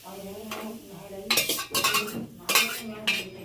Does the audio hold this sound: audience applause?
no